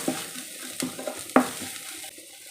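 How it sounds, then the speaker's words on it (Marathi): A spiced green pea filling for matar karanji sautés in a pan, with a soft sizzle and a few sharp scraping stirs of a spoon against the pan, close and fairly quiet, no talking. "आपल्याला हे छान असं परतवून घ्यायचं आहे"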